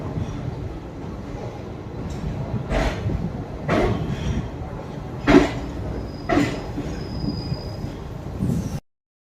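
Murudeshwar to Bengaluru express train on the move, a continuous rumbling ride with rail noise and several brief louder clanks and bursts spaced a second or so apart, heard close from inside the train before it cuts off.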